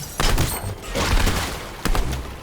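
Mythic Burst rifle fire in the video game Fortnite, heard as a few rapid bursts of loud, punchy shots separated by short pauses, close and dominant with booming low impacts.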